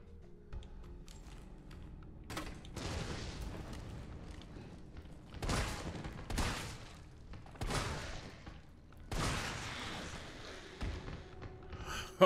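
Shotgun blasts from Resident Evil 3 Remake, several loud broadband bursts at irregular intervals over a low background, with no talk.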